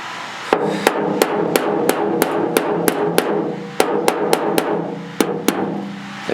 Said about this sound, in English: I'm gonna just pound on this some more.